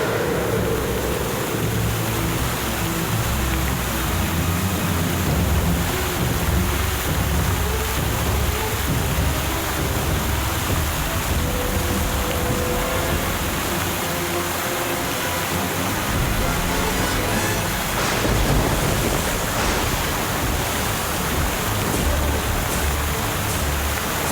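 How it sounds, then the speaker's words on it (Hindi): A tall waterfall roars as a continuous broadband rush of falling water, steady and loud across the whole stretch with no pauses or distinct events. "ये तो बहुत ही ऊंचा झरना है।"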